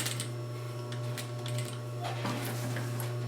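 A sewing machine stitches across the bottom of a fabric grocery tote bag, its motor running as a steady humming whir with faint ticking for a few seconds.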